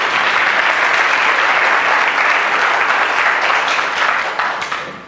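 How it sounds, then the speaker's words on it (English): A conference audience applauds after a keynote opening, producing dense, steady, loud clapping that holds for several seconds and then begins to taper off near the end, with no voices over it. "A round of applause for him."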